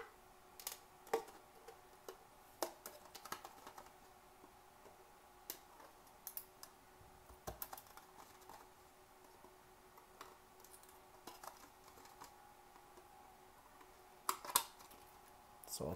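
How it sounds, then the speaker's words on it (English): Scissors snip the corners out of a cup in a quiet room, a series of faint, sharp clicks and cuts in irregular bursts. "So I take these four corners and I just cut them out"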